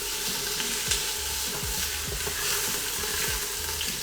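Pork sears in a hot pan, giving a steady close sizzle with occasional soft stirring scrapes and pops.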